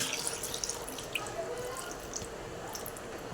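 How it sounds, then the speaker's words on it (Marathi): Water pours into a pot of clams on a gas stove, a soft splashing trickle that keeps up steadily, quiet and close. "त्यामध्ये पाणी टाकूया आपण"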